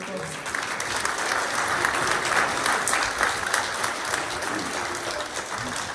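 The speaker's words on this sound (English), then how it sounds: "So a big round of applause for our narrators for narrating for us." An audience claps loudly and steadily at a 5th grade band concert, applauding the narrators; dense, continuous clapping fills the room with a faint voice murmuring underneath.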